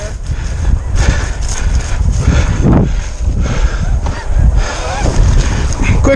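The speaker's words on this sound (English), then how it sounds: "and geese in the air." A loud, busy chorus of snow geese honking continuously in flight, many birds overlapping with rustling and movement noise underneath.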